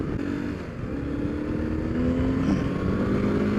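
A 1995 BMW 1100 GS motorcycle engine droning steadily while riding on a salted winter road, a continuous loud hum with a rising tone and wind rush, no talk.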